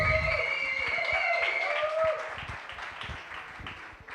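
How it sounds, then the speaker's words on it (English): Applause for instructor Oli Senduk at a coding bootcamp final projects event, steady crowd clapping for about four seconds, easing off near the end, with faint background voices. "Please, big applause to Oli."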